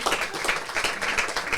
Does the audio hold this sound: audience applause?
yes